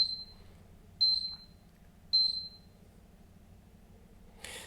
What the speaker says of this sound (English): after about 20 seconds the LED will start to blink blue and you hear 5 beeps